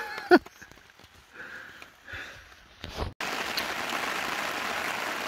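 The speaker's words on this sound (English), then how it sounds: "Ah oh, well, it's raining again." A few soft rustles and thumps, then steady rain patters down on a tarp beside the upper Noosa River, a constant hiss filling the last couple of seconds.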